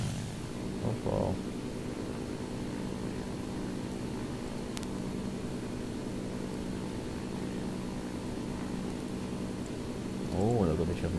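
A propeller warplane's engine in War Thunder, coming in to land, holds a steady, loud droning hum throughout. A voice briefly speaks near the start and again at the end.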